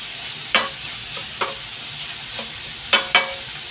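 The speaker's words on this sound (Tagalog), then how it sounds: "Patuloy lang sa pagisa." Ingredients for pancit bato sauté in a pan with a steady low sizzle, broken by four or five sharp spatula scrapes and clacks at uneven intervals, close and fairly loud.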